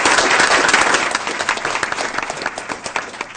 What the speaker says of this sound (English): we owe these two young ladies another round of applause